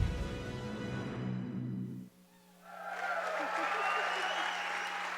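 Audience applause for employee award winners at a Christmas event at the Ryman, a steady roar of clapping that starts after a short pause and fills the rest of the moment, following a voice and music.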